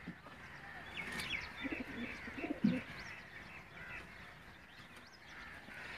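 Heera Lal breed pigeons coo softly, a few low bubbling calls around the middle over a quiet background, with faint chirps and a light hint of distant voices.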